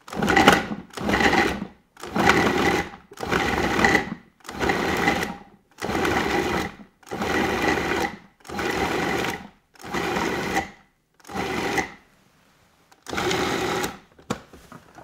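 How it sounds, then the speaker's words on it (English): A food processor pulses partially frozen beef into coarse pieces for tartare. About eleven short, loud motor bursts come in a regular rhythm, with brief silent gaps between them. "I'm going to pulse it until it gets ground sort of coarsely, pieces smaller than 1/4 of an inch."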